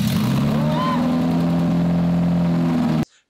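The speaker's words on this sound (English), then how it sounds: "they crank over that K-Swap Prius and it starts" A Prius fitted with a swapped Honda K-series engine, with new injector wiring and throttle body, runs loudly up close with a steady droning tone that rises briefly before cutting off abruptly.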